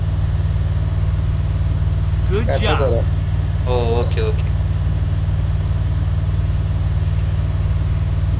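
Vehicle engine in a video game droning at a low, steady idle-like pitch throughout, a constant hum with a short exclamation from a player partway through.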